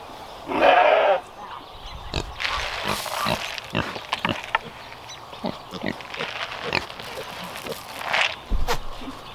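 Goats bleating nearby, a couple of loud calls among rustling and footsteps on a farm, with occasional quieter animal sounds.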